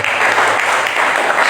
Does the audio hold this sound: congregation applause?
yes